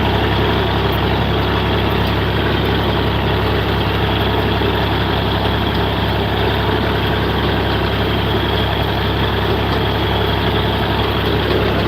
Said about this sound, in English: 4020s are just perfect hay tractors